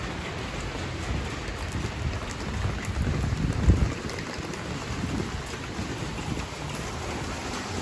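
Steady rain pours down on an unfinished office building at 183 N Perry St, a broad even hiss of drops with a brief louder patter or thud near the middle, no talking.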